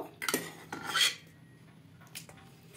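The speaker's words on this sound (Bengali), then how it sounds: "এবার এটা নামিয়ে অন্য একটা পাত্রের মধ্যে ঢেলে নেব।" Chicken soup with carrots and tomatoes being poured from one pot into another, heard as a few clattering metal pot and utensil knocks and scrapes with a brief liquid swish, close by with no talking.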